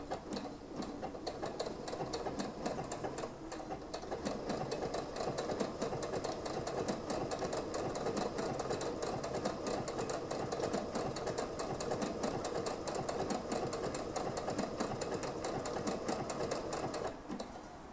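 A sewing machine runs steadily, stitching the seams of a wedding dress skirt with a regular zigzag. The close, continuous whir and rapid needle rhythm go on for the whole stretch, with a short pause near the start and no talk.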